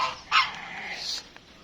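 Geese at a farm with sheep pens honk in a brief burst, a couple of loud, nasal calls close by, fading quickly into quiet background.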